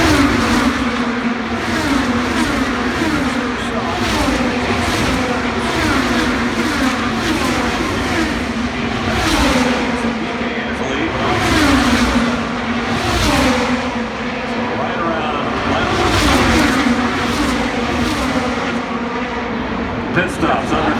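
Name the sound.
IndyCar race cars at the Indianapolis 500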